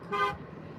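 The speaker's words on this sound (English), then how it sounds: "Why does California honk so much?" A single short car horn toot sounds over a low, steady traffic rumble, then fades back into road noise.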